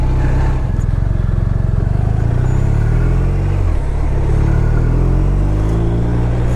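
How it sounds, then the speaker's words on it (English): A BMW motorcycle being test ridden past on a cold day gives a steady, loud engine rumble whose pitch shifts as it accelerates and passes, heard against continuous close riding noise. "That's the guy from down the street test riding another BMW."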